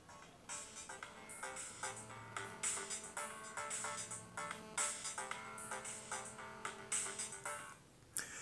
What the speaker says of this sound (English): You're going to hear the ringtone.